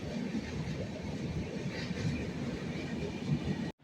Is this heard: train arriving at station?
yes